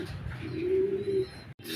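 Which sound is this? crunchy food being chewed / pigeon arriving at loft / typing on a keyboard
pigeon arriving at loft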